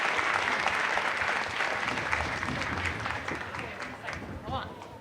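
A conference audience applauding its alumni panel, thick continuous clapping from many hands that holds steady and tapers slightly toward the end, with voices faintly mixed in.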